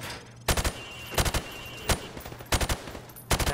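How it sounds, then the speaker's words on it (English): Rifle shots fired from the hip at targets on a training range in Call of Duty: Modern Warfare Remastered, loud sharp bursts of two to four rapid reports repeated at intervals, with brief quiet gaps between them. "Now, shoot at the targets while firing from the hip."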